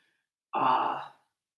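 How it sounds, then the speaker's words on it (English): A single soft, breathy exhale through the mouth during a yoga centering breath, lasting about half a second after silence, close and gentle with nothing else around it. "Inhaling through the nose and exhaling softly through the mouth"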